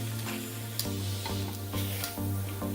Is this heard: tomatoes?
yes